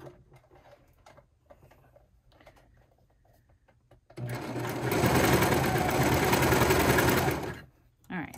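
A serger stitches the seam of a child's grow-with-me hoodie in one loud, fast continuous run of about three seconds, after a quiet stretch of soft handling sounds.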